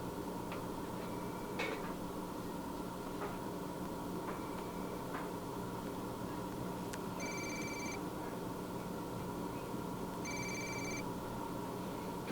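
A video game phone call rings out in repeated electronic double chirps, two ring bursts spaced a few seconds apart over a quiet hum, with faint ticking clicks earlier.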